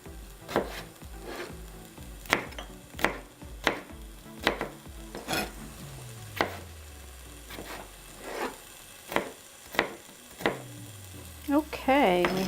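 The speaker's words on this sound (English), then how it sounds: "onion and celery are starting to cook." Onion and celery sizzle in a pan while a utensil stirs and scrapes through them, giving sharp periodic knocks and rasping strokes over a steady frying hiss, with a brief bit of voice near the end.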